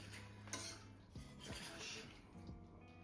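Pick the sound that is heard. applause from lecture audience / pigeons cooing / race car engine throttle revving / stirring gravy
stirring gravy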